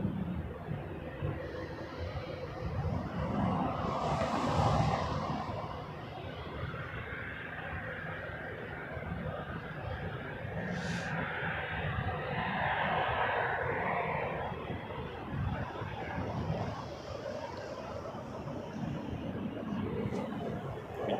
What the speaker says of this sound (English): Catch that while it taxis.